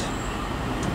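A Southeastern class 375 electric train runs past at Sevenoaks station, a steady close rumble of wheels and motors with no break across the brief moment.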